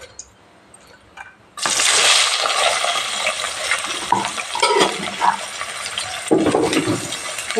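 Chopped onions and green chillies are dropped into hot oil in a curry pan and fry with a sudden loud, bright sizzle. The sizzle then runs on steadily, broken by stirring and clinks of the pan close by, with no talk.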